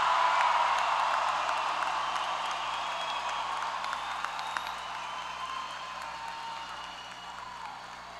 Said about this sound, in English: How about one more big round of applause for our graduates today?